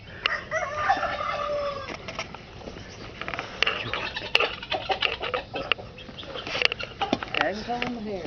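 A rooster crows among clucking farm chickens in a backyard, the calls close and repeated over several seconds, with people talking nearby.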